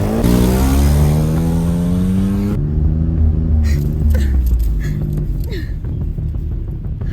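Car engine revving hard as it drives off, pitch climbing steadily in a loud, close roar, then dropping to a lower drone with scattered clicks and knocks.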